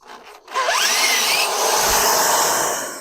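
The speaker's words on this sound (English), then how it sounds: "I'm actually putting pressure on the drill to help hold it down and make the cut." A power drill bores a hole under firm downward pressure, starting with a short whir and then settling into a loud, steady grinding hum that runs for a few seconds before easing off.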